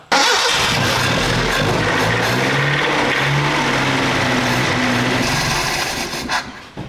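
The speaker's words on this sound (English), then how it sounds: "I'm gonna fire it up and see if it'll draw some fuel out of the fuel tank." An old truck engine cranks and catches, then runs loud and steady nearby with a rough, rumbling idle for several seconds before easing off slightly at the end.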